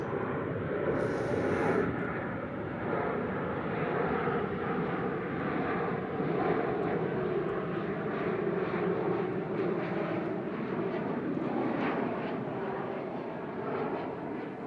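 A Boeing 737-800 arriving from Berlin at Manchester Airport roars continuously with a broad, steady engine rumble and hiss, fairly close and sustained throughout, with no talk over it.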